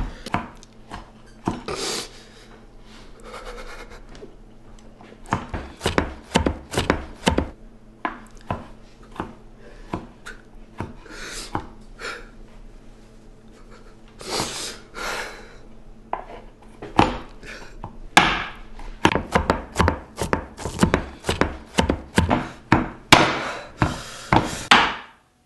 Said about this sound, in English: we're going to finish chopping these up